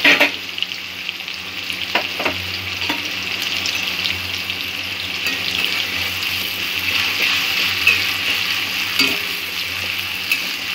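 Onions sauté in a pan for a fish curry, making a continuous loud, close sizzle with occasional stirring knocks throughout.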